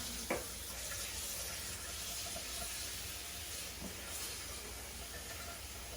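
Tap water runs into a bowl to make salt brine for vegan kimchi, a steady hissing rush with a soft knock near the start and another faint clink later.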